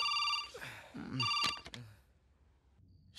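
Telephone ringing after a call is placed, in a Hindi-dubbed South Indian action film: two bright electronic ring bursts close by, then a brief clatter and near silence.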